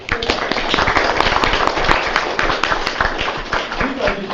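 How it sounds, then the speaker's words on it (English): Faculty and staff standing in a room at a dean's forum receive a steady burst of audience clapping, dense and sustained throughout, with scattered sharper individual claps standing out near the start. "Let's give them a hand of applause."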